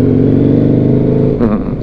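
Husqvarna Nuda 900R motorcycle engine revving loudly and close as the throttle opens, a strong steady engine drone that swells and then eases briefly near the end.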